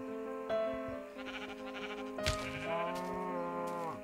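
Sheep in the game Minecraft bleat several times in a row, drawn-out wavering calls that overlap one another, moderately loud with no talking.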